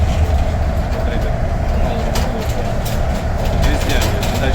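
Train ride in Hong Kong, a steady loud rumble of the carriage rolling along the track with rattling and faint clicks throughout, and some speech in the background.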